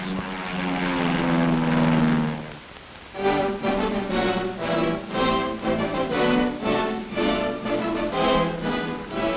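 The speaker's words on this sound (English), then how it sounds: "overhead, Air Force and Marine Corps planes support the ground troops." Military propeller aircraft of the Air Force and Marine Corps in the Korean War roar loudly overhead, their engine drone swelling and pulsing as several planes pass close by in sequence.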